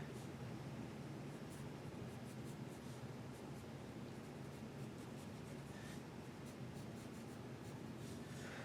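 A pencil scratches lines onto paper while sketching a kitten, a soft continuous rasp heard close and quiet with no talking.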